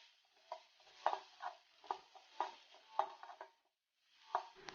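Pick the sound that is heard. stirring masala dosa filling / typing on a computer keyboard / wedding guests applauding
stirring masala dosa filling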